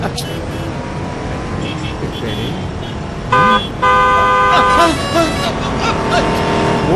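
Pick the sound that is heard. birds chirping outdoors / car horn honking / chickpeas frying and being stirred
car horn honking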